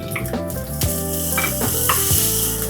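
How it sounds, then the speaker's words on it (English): Onions fry in hot coconut oil in a pan, giving a steady close sizzle with a few stirring scrapes and small clinks of cookware. No one speaks. "In with some onions, and we're going to fry these off until they are soft and slightly golden."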